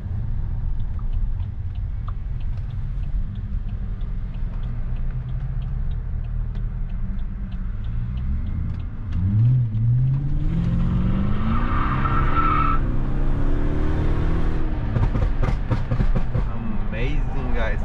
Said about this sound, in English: Amazing sound, amazing feeling of driving a V8.